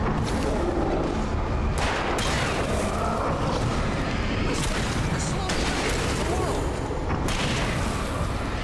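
Heavy gunfire in an Alan Wake video game cutscene, a dense, loud barrage of overlapping shots and booms with brief bursts standing out, with shouting voices mixed into the chaos.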